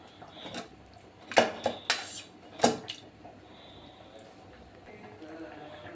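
Cooked lentils (dal) being mashed in a pot after pressure cooking, heard as a few close metallic clanks and scrapes of utensil against the pot in quick succession, followed by quiet kitchen background.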